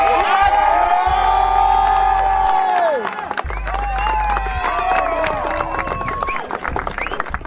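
A crowd at a college outdoor track and field conference championship claps and cheers with whoops and shouts, lively and sustained, with some loud tonal sound over the noise early on.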